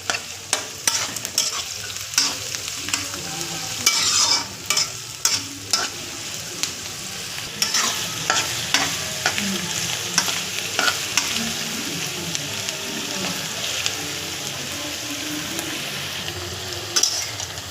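Onions, carrots and other chopped vegetables fry in a pan, giving a steady, close sizzle broken by frequent sharp scrapes and clacks of a spatula stirring the mixture, with no voices.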